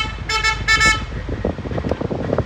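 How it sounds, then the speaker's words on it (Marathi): A car horn gives two short, loud toots in quick succession, followed by rumbling road and vehicle noise. "हॉर्न मारू नको रे."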